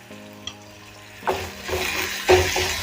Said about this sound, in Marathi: पुन्हा सर्व व्यवस्थित ढवळून घ्यायचे